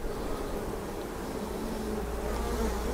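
A honey bee swarm building out bare wax foundation comb hums in a dense, continuous drone, steady and close throughout with no voices.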